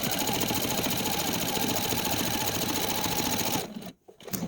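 Rapid, even mechanical chatter of a sewing machine stitching lined-up fabric scraps for a scrappy quilt, running steadily and close before stopping abruptly near the end.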